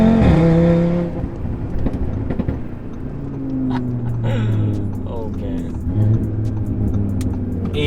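A loud Audi RS3 sports car exhaust revs up hard at the start, then settles into a throaty idle and rumble, with a few more blips of the throttle and people talking nearby.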